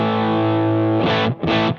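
An electric guitar runs through a Jackson Audio Asabi overdrive pedal, with a sustained, gritty, distorted chord ringing loudly before two short, crisp strummed chords end the passage. No voices are heard.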